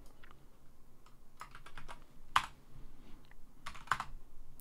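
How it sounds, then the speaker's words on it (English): A command typed on a computer keyboard while connecting to a GitHub Actions runner over SSH: scattered, light keystroke clicks in short bursts, close and fairly quiet, with no talking. "So let's type that in."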